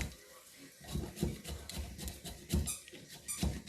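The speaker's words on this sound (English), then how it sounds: "You can hear that squeaking in the background. That's the puppy playing with her toy." A puppy plays with a squeaky toy in a kitchen, giving scattered faint squeaks and soft pattering bumps at irregular moments in the background.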